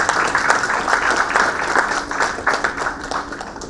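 A conference audience applauds, a dense, steady wash of clapping that fades slightly toward the end.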